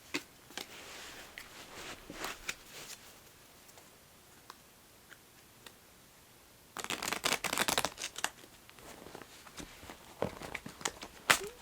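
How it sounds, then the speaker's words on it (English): Oracle cards are shuffled by hand: soft, scattered ticks and taps, then a denser, louder burst of riffling and flicking, all quiet and close with no voices. "then you can kind of shuffle the cards"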